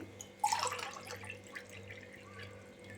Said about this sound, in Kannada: ನೀರು ಹಾಕ್ಕೊತೀನಿ.